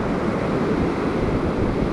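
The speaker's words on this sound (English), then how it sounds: "it's literally right where the waves are breaking right in front of me here" Ocean surf breaking along an Oregon beach during surfperch fishing, a dense constant roar with wind rush, close and steady, no voices.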